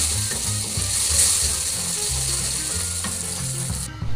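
Butter sizzles in melted sugar in a wok while making sesame tikki, a bright hissing bed under repeated clicking, scraping stir strokes, close and loud with no voices.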